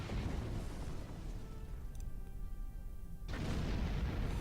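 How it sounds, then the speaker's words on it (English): A starship's spore drive activates in Star Trek Online, a sustained rumbling whoosh with a ringing tonal shimmer that cuts off sharply before a dense roaring burst of noise. "So yeah, I guess that's the spore drive?"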